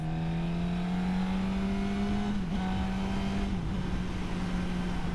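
A 2021 Suzuki GSX-S1000F motorcycle pulls hard in sixth gear on a highway, a steady humming engine tone that rises slightly and dips twice, under heavy rushing wind noise.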